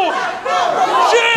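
Wrestling crowd cheering for the Frat Boy at a W.O.W. match, a loud, close roar of many voices yelling and shouting together in one sustained surge.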